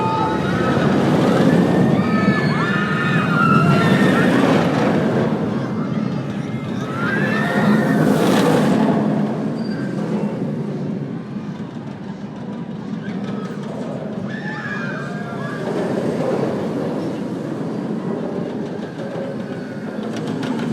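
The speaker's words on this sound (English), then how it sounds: "Let's go hop in line on the world's first B&M coaster, now a floorless coaster" B&M floorless roller coaster running at an amusement park, a loud rushing roar of wind and rattling track noise that swells and fades over the ride, with riders' voices and screams mixed in.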